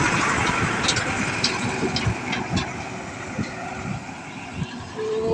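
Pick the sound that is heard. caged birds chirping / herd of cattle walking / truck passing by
truck passing by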